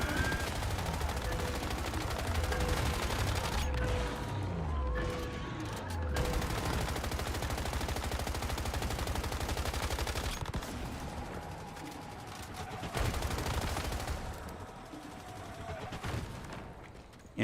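Gunfire rattles through a hard-mode server session of the video game Once Human, with repeated shots spread across the whole stretch amid busy game effects and faint voices.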